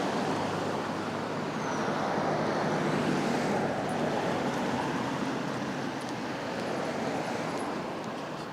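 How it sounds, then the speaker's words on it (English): Busy road traffic on a snowy Blackpool street gives a continuous broadband rush of passing vehicles, steady and fairly near, with no voices. "Sorry about the traffic noise."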